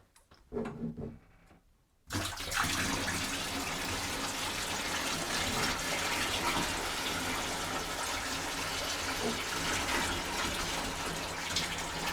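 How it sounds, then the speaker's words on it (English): Water solution fizzing and rushing as it fills a tank at a rural country homestead, a steady loud gushing wash that begins abruptly after a brief quieter moment and continues without a break. "Oh, I can hear it fizzing."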